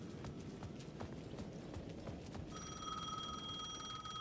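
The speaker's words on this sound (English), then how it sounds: "The payphone at the edge of the plaza was ringing again." In the video game Alan Wake 2, a payphone at the edge of a plaza rings with a steady electronic trill that starts partway through, over a background of footstep-like clip-clop sounds.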